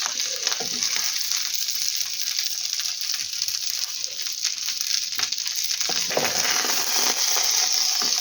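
Steady, crackling sizzle of chicken breast chops frying in a pan, with occasional pops and soft scraping, no voices.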